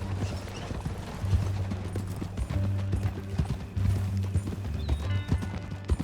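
Horse hooves clip-clop at a steady walking rhythm in the video game Red Dead Redemption 2, close and fairly even, with a low rumbling drone beneath and occasional faint creaks.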